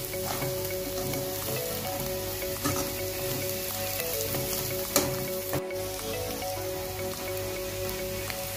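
Kashmiri chilli and curry leaves fry in oil in a pan, making a soft continuous sizzle with occasional light stirring taps, over a faint steady background hum.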